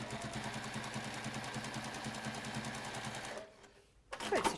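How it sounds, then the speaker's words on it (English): A home sewing machine stitches steadily with a loud, rattly mechanical drone that suggests some fault. It runs continuously, then drops out briefly near the end before a burst of clattery noise returns. "I will at some point also get round to working out why my machine is making this awful noise."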